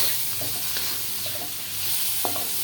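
Shrimp sizzle steadily in hot oil in a pan with a constant close hiss, while occasional light knocks and scrapes from stirring sound over it.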